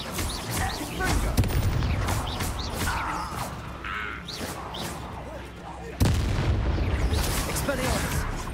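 Booming blasts from the Confringo spell in Hogwarts Legacy erupt amid combat, heavy thuds and crackling bursts, one especially loud impact near the end, with a voice shouting over the action.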